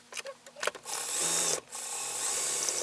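A sewing machine stitching the side seam of a pullover blouse: a few short stuttering bursts of stitching, then a sustained run of fast, even whirring, a brief pause, and the motor running steadily again, close up.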